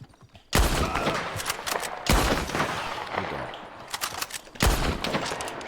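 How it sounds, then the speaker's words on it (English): Maxim machine gun firing in the Red Dead Online video game, three long sustained bursts of rapid automatic fire separated by short gaps, loud and close with no talk. "They have to use the Maxim gun."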